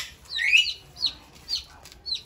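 Bantam chickens make short, high clucks and chirps in quick separate bursts, close by and fairly loud, with four or five calls spaced about half a second apart.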